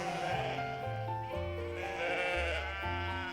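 Sheep bleating in a pen in a video game, several overlapping wavering bleats in quick succession, close and fairly loud, with no talking.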